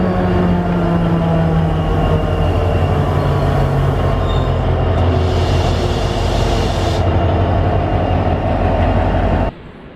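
A loud train rumbles steadily with rolling wheel noise and a brief high squeal in the middle at Villanueva de la Serena station, Spain, then the sound drops sharply near the end.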